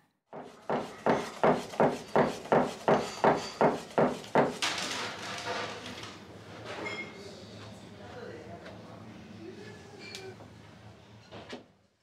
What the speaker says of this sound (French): on coupe à l'aide d'un couteau très particulier